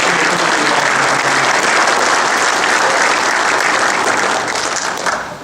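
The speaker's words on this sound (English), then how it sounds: "give these ladies and gentlemen a big round of applause" Loud, sustained applause from an audience, dense steady clapping that fades away at the end.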